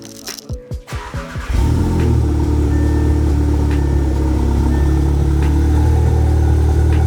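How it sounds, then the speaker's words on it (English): Audi S3 with an Atlas downpipe and resonated ECS catback exhaust, valves closed, starting up with a few cranking bursts before settling into a steady, loud, deep idle drone. "Atlas downpipe with the ECS tuning, resonated exhaust. This should be valves closed."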